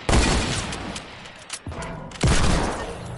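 Loud bursts of sniper gunfire ring out in a video game, with a heavy blast at the start and another around the two-second mark, their echoes trailing off between shots.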